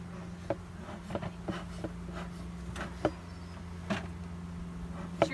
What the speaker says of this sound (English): I'm just going to brush the bees off gently so there's no more